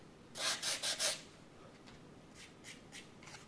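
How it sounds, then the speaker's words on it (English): Sandpaper rubbed across the bottom of a balsa catapult glider wing to sand a flat, four quick close scratchy strokes followed by several fainter, lighter passes. "Now you want to sand a flat"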